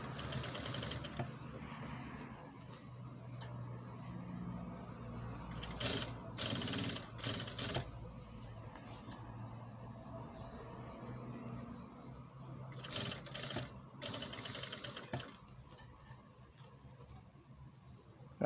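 Sewing machine stitching a parchment-trimmed jellaba sleeve, a steady close mechanical whir with brief louder bursts of fast stitching, faint and low in level.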